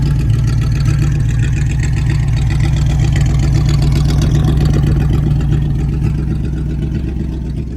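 A 1958 Plymouth Belvedere with a 392 Hemi V8 idles through its dual exhaust, a steady, loud, low rumble that holds evenly for the whole stretch with no talk over it.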